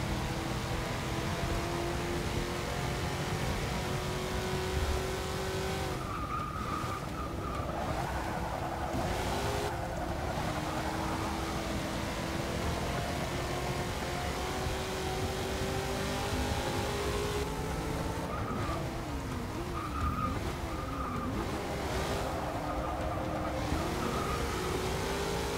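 Muscle car engines race in Forza Motorsport 6, a steady loud roar of revving and accelerating with rising and falling pitch sweeps as cars shift gears and pass, continuous throughout with no talk.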